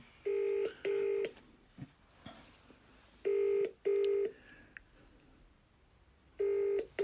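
An old-style phone ring repeats in paired bursts, three double rings separated by quiet gaps, clear and fairly close with faint room noise between.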